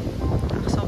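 Strong wind buffets a microphone outdoors on a farm property in Croatia, a rough, low rumbling gusting noise filling the short moment.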